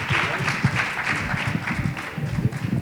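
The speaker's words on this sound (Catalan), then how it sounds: "Un aplaudiment ben fort per al senyor alcalde" A crowd at a Valencian falles celebration claps for the mayor in a short burst of steady, fairly close applause mixed with crowd murmur.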